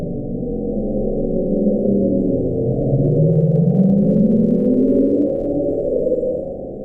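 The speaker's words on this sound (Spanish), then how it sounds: "Este sonido es conocido como el bloop" The Bloop, a mysterious ultra-low underwater sound recorded in the South Pacific Ocean by NOAA, played back as a deep, rumbling drone with a slowly rising tone, steady and fairly loud, with no talking.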